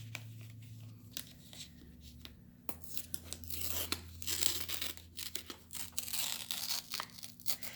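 Kiss-cut stickers peeled off a sheet by hand, with close, quiet bursts of tearing and crinkling in irregular strips over a faint low hum.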